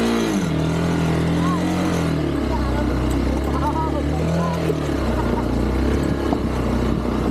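A Hero Xpulse 200 motorcycle on an off-road trail, its engine rumbling and rising in pitch through a couple of revs, heard close beneath steady talking voices.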